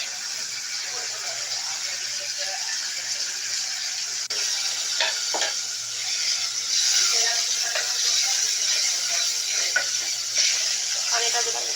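A blended paste of onion, green chilli and ginger fries in a pan for a roast dish, with a continuous close sizzle and occasional stirring scrapes and spatters.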